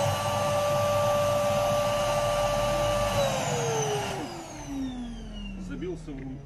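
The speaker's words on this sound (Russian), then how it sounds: "Так я уже тут около часа торчу с этим пылесосом." A vacuum cleaner with a tube clogged by a large piece of debris runs with a loud, steady motor whine, then its pitch sinks as the motor winds down over the last few seconds.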